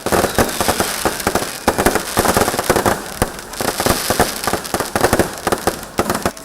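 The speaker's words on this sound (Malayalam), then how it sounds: "പൂർണ്ണമായും വൈദ്യുതി ഉപയോഗിച്ചാണ് നേരിയ ശബ്ദവും കണ്ണഞ്ചിപ്പിക്കുന്ന പ്രകാശവുമുള്ള ഡിജിറ്റൽ വെടിക്കെട്ട് ഒരുക്കിയത്" Digital electric fireworks display on a church ground, designed for reduced noise, giving a dense, continuous crackle of rapid small pops and bursts, loud and close, with no voices.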